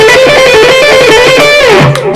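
Electric guitar played with staccato picking on the neck pickup, with a slightly driven tone: a fast, even run of clipped notes that slides downward near the end, close and loud with no voices.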